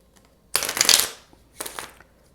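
Tarot cards are riffled in two quick bursts, a long crisp flutter of cards followed by a shorter second shuffle, close and loud against near silence.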